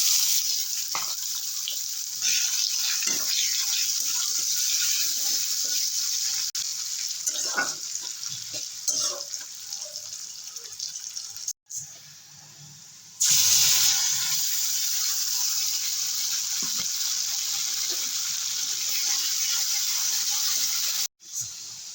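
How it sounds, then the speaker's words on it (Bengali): Water from rinsing a mixer jar goes into a hot pan of oil with bay leaf, whole cumin and chopped onion, setting off a loud, continuous hiss and sizzle that breaks off briefly twice before surging back. "মিক্সি ধোয়া জলটাও দিয়ে দেবো"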